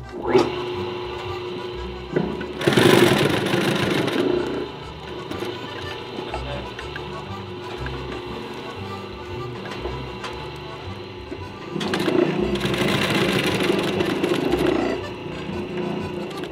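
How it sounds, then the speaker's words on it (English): A German Spaff industrial heavy-duty sewing machine for leather goods runs with a steady mechanical hum and stitching clatter, louder in two stretches, heard up close in a workshop. "For our first sewing machine, we have our German Spaff industrial heavy duty sewing machine"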